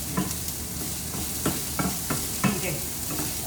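Ridge gourd and onion sautéing in a pan, a steady sizzle punctuated by repeated scraping stirs of a spatula at an irregular pace, close and clear.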